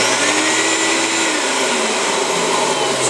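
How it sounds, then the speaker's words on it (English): A dental vacuum former's vacuum pump runs loudly and steadily, a constant high whining roar with a low hum, close and unbroken throughout, no talking. "Now if I turn it on, you're going to hear it really loud."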